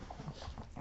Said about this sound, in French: J'ai mes chiens qui vont foutre un bordel monstrueux là